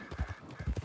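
Horse hooves clip-clop in a video game, a quick run of four or five close, clear hoofbeats in a steady walking rhythm with no talk.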